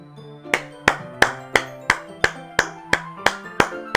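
Hand clapping, about ten sharp claps in a steady, even rhythm, close and distinct over a quiet background with faint sustained tones.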